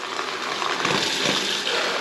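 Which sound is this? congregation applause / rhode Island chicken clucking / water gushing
water gushing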